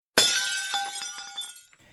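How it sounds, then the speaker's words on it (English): Glass shatter transition sound effect from Movavi editing software: a sudden loud crash of breaking glass followed by ringing shards and tinkling fragments that fade out over about a second and a half. "to get the breaking glass effect, I used one of the new transitions with sound"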